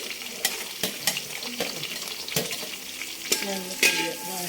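Ginger, shallots and curry leaves frying in a pan, a steady close sizzle broken by sharp spatula scrapes and stirring knocks, no voices.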